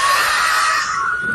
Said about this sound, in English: the camera is dropped as the audience starts screaming